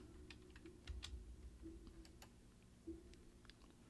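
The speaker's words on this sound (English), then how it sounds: "Anyways, keyboard smash." Random keys on a computer keyboard are mashed in scattered, faint clicks and taps against a quiet room hum.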